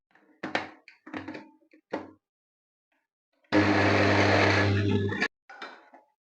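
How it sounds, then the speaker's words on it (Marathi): A kitchen mixer grinder whirs loudly for about two seconds as it grinds paneer fine, framed by brief clatters and knocks of handling before and after. "पनीर कापून घेतलंय आता ह्याला मिक्सरला लावून घेऊया बारीक एकदम"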